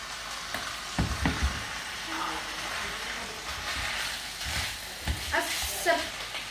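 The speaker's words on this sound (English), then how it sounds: "the Rösti is fried" Rösti frying in a pan of hot oil, a steady close sizzle with scattered louder crackles and spits throughout.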